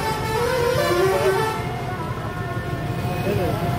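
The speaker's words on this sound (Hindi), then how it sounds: "आगे पूरा ट्रैफिक जाम लगा हुआ है।" Traffic is jammed on a road in Muzaffarpur, with car and truck horns honking over a rumble of engines while voices talk nearby.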